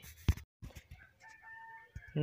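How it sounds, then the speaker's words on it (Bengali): A sick hen of about two kilograms makes a few short, close clucking calls between quiet gaps, with faint background noise. "দেখুন আমার সামনে একটা মুরগি বসে রয়েছে"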